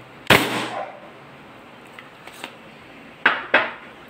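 A WE Hi-Capa Dragon gas blowback airsoft pistol is dry fired with no BBs loaded, giving one sharp, close metallic snap followed by a couple of faint clicks and then two more quick cracks.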